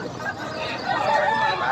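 Chickens at a Filipino open-air market, with clucking and crowing-like calls mixed into a dense crowd babble. The chatter stays busy throughout, and people talk nearby.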